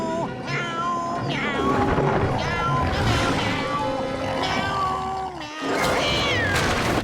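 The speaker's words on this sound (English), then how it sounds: "only Gary is present on the fence, but he's singing the exact same song" Gary the snail from the SpongeBob cartoon sings a song made entirely of meows, a continuous run of melodic, pitched meows with a short dip in the middle before the singing resumes.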